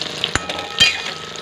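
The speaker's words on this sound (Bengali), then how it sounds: "এই যে পটলটা ভাজতে দিয়েছি" Pointed gourd frying in a pan in a home kitchen gives a brief, low sizzle broken by a couple of sharp utensil clinks, close by and without speech.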